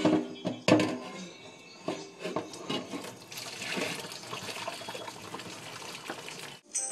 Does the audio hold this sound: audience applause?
no